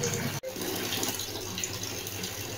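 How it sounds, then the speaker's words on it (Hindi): Water runs steadily from a tap to fill a bath, a continuous broadband rush close by with one brief dropout near the start and no talk. "अभी अलीजा का पानी तैयार हो रहा है"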